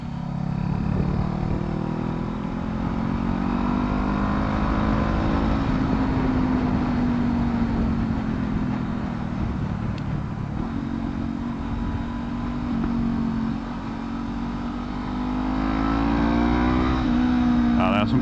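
A Honda CB500F motorcycle engine droning steadily while riding on open roads, its hum shifting slowly in pitch with throttle, heard under a rider's continuous talk and wind noise.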